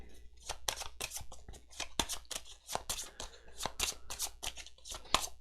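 Rapid crisp card-shuffling clicks from a video game, a dense rhythmic run of sharp flicks and snaps repeating steadily at close range, fairly quiet.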